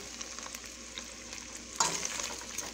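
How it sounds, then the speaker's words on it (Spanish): Pork pieces frying in their own rendered fat, a quiet steady sizzle with light stirring scrapes, then a sudden louder spitting burst partway through, close and without talking. "Ahí se lo dejé para que suelte la grasa y se pueda dorar bien."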